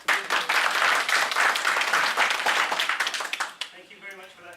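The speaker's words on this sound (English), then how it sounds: "So at least be generous to clap for someone." An audience applauds a speaker after a kind introduction, dense sustained clapping filling the room for about three and a half seconds before fading out.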